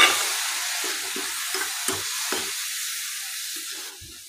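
Milk poured over semolina in a hot pan for rava modak, giving a close, steady sizzle with soft stirring scrapes and small bursts over about four seconds, with no voices.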